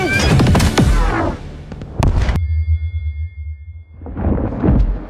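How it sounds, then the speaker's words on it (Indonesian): A massive explosion in an animated film, with loud crackling blasts that rumble and roll off, then a quiet, low hum, before a further burst of blast noise. "Hasilnya terciptalah ledakan yang luar biasa, mengakibatkan Mater pingsan."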